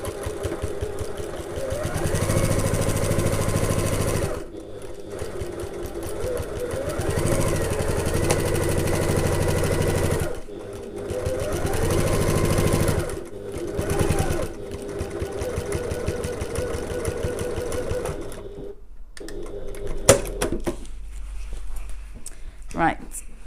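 A sewing machine stitches a tote bag seam in bursts of steady mechanical whirring, stopping and starting several times, with someone talking quietly over and between the runs.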